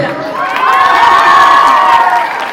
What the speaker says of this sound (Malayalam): നല്ല കയ്യടി കൊടുത്തേ